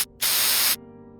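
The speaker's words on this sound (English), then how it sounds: "grabbing a squirt bottle and spraying water all over him" A squirt bottle sprays water in one burst lasting about half a second. The hiss is loud, broad and close, set against a faint background hum.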